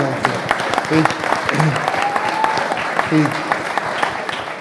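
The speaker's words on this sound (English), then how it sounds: "Give him a round of applause." Audience applause at a civil rights gathering, dense and steady throughout, with voices murmuring and talking underneath the clapping.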